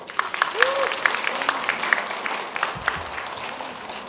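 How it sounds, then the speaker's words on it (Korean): Applause breaks out from a church congregation during a sermon, a dense wash of clapping with scattered sharper claps over a few seconds, mixed with faint murmuring voices. "박수."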